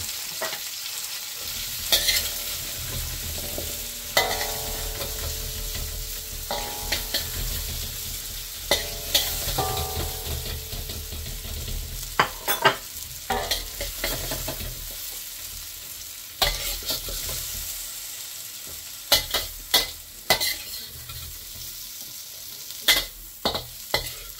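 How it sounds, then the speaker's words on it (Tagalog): A spoon stirs beef caldereta in a sizzling pan, giving repeated scraping clanks over steady frying hiss for the whole stretch. "Ahulin na natin."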